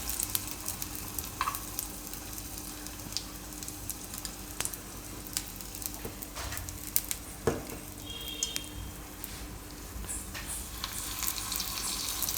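Methi gota batter spooned into a hot appe pan gives a low, steady sizzle with scattered soft clicks and taps of a spoon, close but quiet, with no voices.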